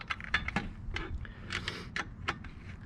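A bolt on a homemade fishing pole holder being tightened with a 7/16 wrench, a series of short metallic clicks and ratcheting taps in an irregular rhythm, close by with no talk.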